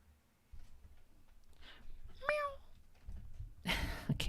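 A cat meows once with a rising, wavering cry, close by, amid quiet room noise, followed by a louder burst of rustling.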